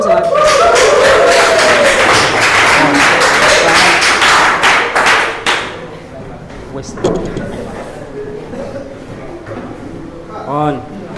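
A classroom audience at a teacher-training practice lesson claps loudly and densely for group 1 for about five seconds, then the clapping stops and voices talk with a few light knocks.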